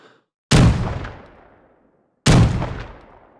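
Two booming blasts from a double-barrel shotgun loaded with buckshot in Rising Storm Vietnam, about 1.7 seconds apart, each a sharp loud crack with a long rolling echo fading into silence.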